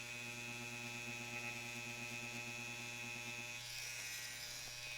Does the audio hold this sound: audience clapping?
no